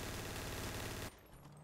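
Drive-by gunfire in a GTA roleplay game, a sustained loud burst of rapid automatic shots that stops abruptly, followed by quieter ambience.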